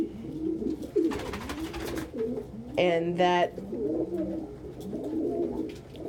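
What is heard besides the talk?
pet pigeon cooing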